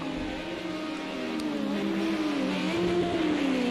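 A vintage touring race car at SARCO qualifying drives a circuit, its engine droning steadily and shifting pitch, rising then falling as it brakes on dirt, loud and continuous with no talk.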